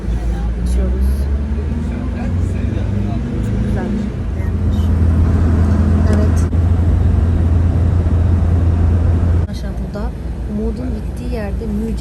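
Private car driving on a road, a steady engine and road rumble heard from inside, with people talking over the noise.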